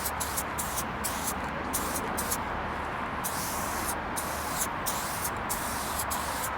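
A spray paint can fitted with a Silver Fat cap hisses in a continuous, steady broadband spray, close and fairly loud, with brief gaps between bursts and no voices.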